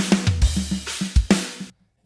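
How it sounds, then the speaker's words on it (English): A short burst of mixed drums: punchy kicks, snares and cymbal hits in a quick groove, ending abruptly after under two seconds. "I'm going to start by playing a mix of drums"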